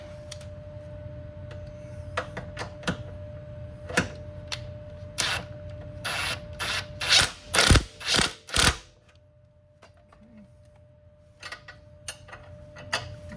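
A nut is tightened with a ratchet to pull a spacer through during a Camso X4S track install on a Can-Am Outlander 850 ATV, giving rapid rhythmic clicking that swells into several loud close ratcheting bursts before tapering off.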